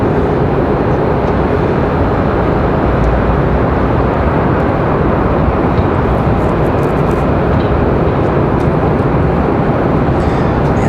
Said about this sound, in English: Alright, so Delta, this A319 cleared for takeoff.